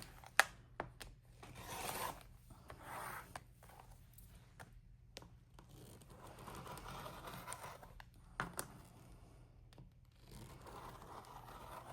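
Quiet, close rasping strokes as fabric at the sides of a scrappy quilt block is trimmed, coming in a few short bursts separated by near silence, with faint handling rustles in between.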